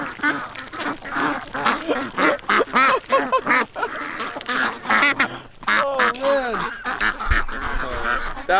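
A flock of ducks quacks loudly and continuously at close range while their beaks peck at outstretched hands, with people talking and exclaiming now and then over the dense, overlapping calls.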